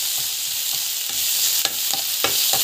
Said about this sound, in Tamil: நல்லா வந்து வதங்கிட்டோம்.